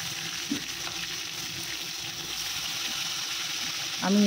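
Fish pieces frying in oil in an iron wok, a steady broadband sizzle throughout with a few light scrapes and clinks of a utensil, close and moderately loud, no talk.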